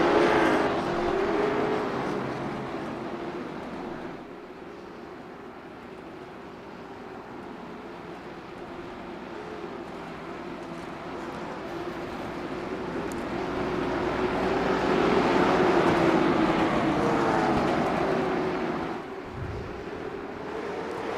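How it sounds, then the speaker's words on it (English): Race cars three wide on a Southern National restart at a night Thanksgiving race, their engines roaring steadily as a sustained drone that swells louder toward the middle and then eases, with no speech. "3 wide on the restart there for third as Ross Boo Boo Dalton's trying to get back"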